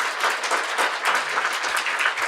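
An audience at a Korean business lecture applauds, a dense and steady clapping that stays loud for a couple of seconds with no voices over it.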